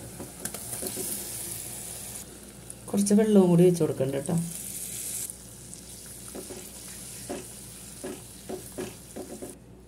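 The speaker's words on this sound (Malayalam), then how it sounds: "നമുക്ക് ഇതിലേക്ക് മസാല വെട്ടിവെച്ച ബീഫ് ഇട്ട് കൊടുക്കാം." Masala-coated beef for a beef vindaloo hits a hot pan with a loud, bursting sizzle that fades into a soft steady frying hiss, while someone talks nearby.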